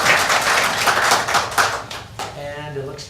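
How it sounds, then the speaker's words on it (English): Audience applause breaks out at a city council meeting, a dense stretch of many hands clapping that thins toward the end, with a voice speaking faintly under it. "Yeah, you can clap."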